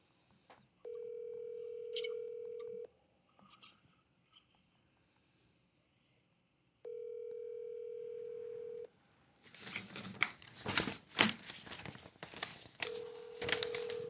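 A telephone call rings unanswered: two long, steady ringback buzzes spaced several seconds apart, followed by loud crackling, rustling line noise and the start of another ring.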